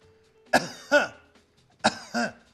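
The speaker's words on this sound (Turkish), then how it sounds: "Kuru öksürük." A person gives a dry throat cough, two quick hacking coughs, then a short pause and another identical pair, close and clear against a quiet background.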